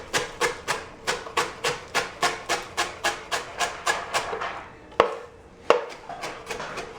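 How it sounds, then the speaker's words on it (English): Cilantro being chopped with a knife on a board: a quick, even run of about fifteen close thuds, then a pause and two louder, sharper knocks, no talking. "chop up the cilantro first"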